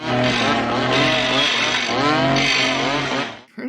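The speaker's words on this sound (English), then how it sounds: "Downstairs, the chainsaw fight is underway." Loud, continuous chainsaw engines snarl and rev up and down in a fight scene from the film Phantasm II, two saws overlapping in a harsh buzzing roar, then cut off abruptly.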